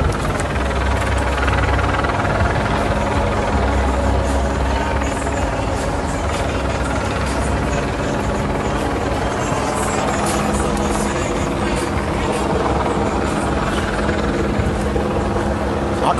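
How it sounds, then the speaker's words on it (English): Steady chopping drone of two helicopters overhead during a street protest, continuous and fairly loud throughout with a low engine rumble and no pauses. "They got two helicopters in the sky, in the air."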